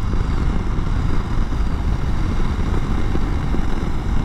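A 2021 Honda CRF300L Rally ABS single-cylinder motorcycle is ridden with a continuous loud engine drone, blended with heavy wind buffeting and road rumble, and no voices.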